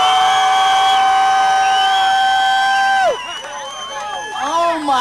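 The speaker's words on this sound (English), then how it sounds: "Class of 70s, let me hear you scream!" Alumni of the 1970s class at an Aztecs barbecue area scream and cheer, with loud sustained shrieks and whoops for about three seconds before the roar breaks into scattered shouts and crowd babble.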